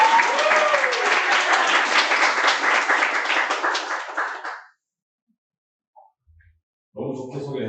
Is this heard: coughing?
no